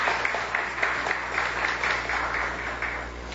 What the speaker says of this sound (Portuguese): a quem saudamos com uma salva de palmas